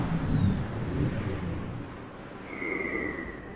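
Steady rumble of passing cars with a whooshing vehicle sweeping by, continuous city road traffic noise from the video game Mass Effect, with no talking.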